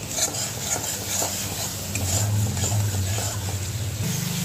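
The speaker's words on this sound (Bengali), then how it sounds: "পেঁয়াজটাকে এবার খুব ভালোভাবে কষিয়ে নেব, যতক্ষণ না পেঁয়াজের কাঁচা গন্ধটা দূর হয়ে যায়" Chopped onions sautéed and stirred in a pan with a little salt, giving a steady close sizzle under repeated scraping strokes of the spoon, with a low hum running beneath.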